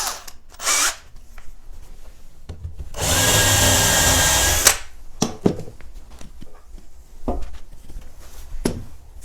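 A power drill whirs steadily through a wooden skirting board for about two seconds, framed by short knocks and handling clatter before and after.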